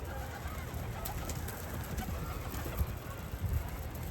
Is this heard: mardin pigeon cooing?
yes